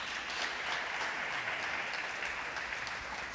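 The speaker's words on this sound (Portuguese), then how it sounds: "Dá um aplauso a Ele por isso." A church congregation applauds continuously, a dense, even wash of clapping at moderate level with no talk over it.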